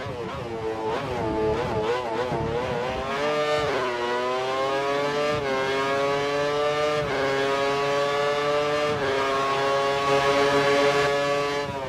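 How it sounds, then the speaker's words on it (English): Two Ferrari Formula 1 cars accelerate out of a hairpin at San Marino. Their high-pitched engine notes rise through the gears, loud and continuous, with one sustained snarl layered over another. "Now the two Ferraris together out of the hairpin."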